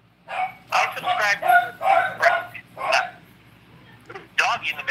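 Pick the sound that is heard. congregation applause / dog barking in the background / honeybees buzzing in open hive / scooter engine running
dog barking in the background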